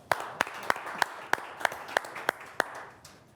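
An audience at a business innovation awards event claps in faint, evenly spaced beats, about ten distinct claps in steady rhythm against quiet room tone.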